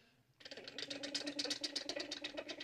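A man imitates a tractor engine with his voice, sputtering into a rapid, steady chugging rhythm after a brief quiet start, loud and close throughout.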